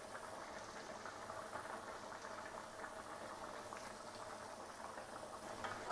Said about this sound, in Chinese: 让金针菇在里面炖个大概3分钟